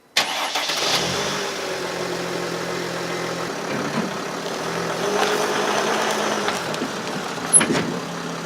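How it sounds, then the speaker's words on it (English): A Mercedes Sprinter van's engine runs at a steady idle and low rolling speed as the van drives up onto ramps, close and fairly loud throughout, with a slight surge near the end and no talking. "I'm going to drive onto these ramps just to give myself some more room to get under the vehicle"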